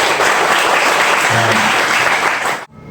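A crowd at an oral exam session claps together in dense, loud, sustained applause that cuts off abruptly near the end.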